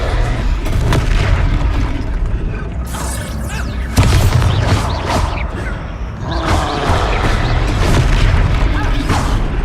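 A Descendo spell impact in the Hogwarts Legacy video game lands as loud, heavy booms within dense, continuous combat effects, with sharp crashes and mechanical rumbling throughout.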